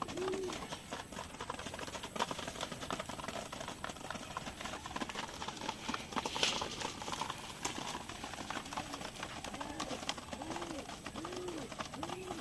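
Pigeons coo in a low, rounded repeated rhythm, several birds close by, with soft rustling and scraping throughout.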